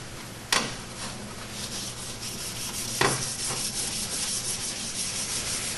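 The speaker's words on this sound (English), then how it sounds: "sanding it with 500 grit will take that all out" Continuous rubbing scrape of 500-grit sandpaper wet sanding a clear-coated woodgrain finish, steady and close, with two sharp taps breaking through.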